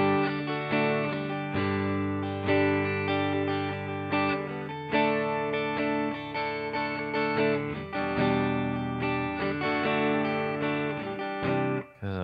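A Danelectro 64 XT electric guitar played on its neck pickup gives a warm tone, with strummed chords and sustained notes in a steady rhythm, clear and alone with no talking.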